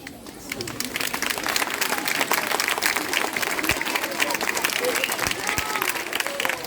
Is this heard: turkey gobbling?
no